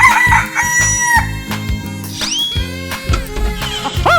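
A cartoonish rooster crows cock-a-doodle-doo in a 3D animal video game, two rising, strained calls heard up close over a steady, bouncy game music loop.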